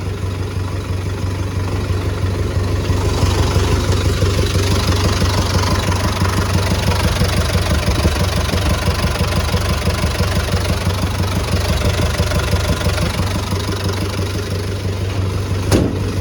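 An MTZ tractor engine idles steadily in snowy winter conditions, a loud, continuous low diesel rumble with an even pulsing throb close to the microphone and no talk.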